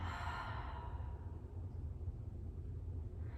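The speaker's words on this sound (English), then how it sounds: "Deep breath in, deep breath out." During a yoga session, a long deep exhale sighs out softly at the start and fades into a faint low rumble of room noise.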